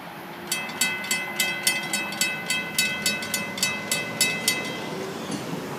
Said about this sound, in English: Good looking train.